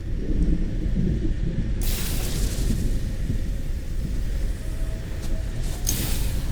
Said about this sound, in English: I don't see the lightning coming down. I hear it.